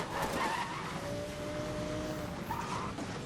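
A Toyota Supra MK5 racing in the video game NFS Most Wanted 2012, steady engine roar with a long tire squeal in the middle, close and fairly loud, no talk.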